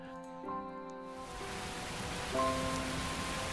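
Rain falls in the video game Diving Disorder, a steady broadband hiss that swells after the first second and continues beneath sustained musical tones.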